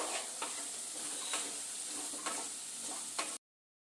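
Ginger and cumin paste stirred in a hot frying pan, a constant hissing sizzle punctuated by periodic scraping strokes of a spatula, fairly quiet, cutting off abruptly to silence.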